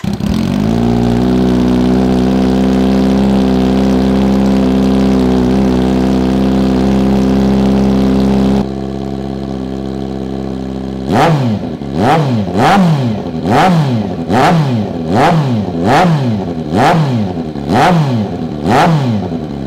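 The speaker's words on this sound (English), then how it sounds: "With the bread box removed and just the link pipe, no muffler. Cold start, here we go" A Kawasaki Z900 motorcycle with the bread box removed, fitted with only a link pipe and no muffler, idles loud on a cold start, then revs in a series of about eight sharp, evenly spaced blips, close and without talk.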